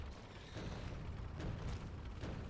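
Explosive cannon shots in the video game Factorio, a rapid series of deep booming blasts and bursts rolling over one another, with low rumbles and a few sharper cracks standing out around the middle.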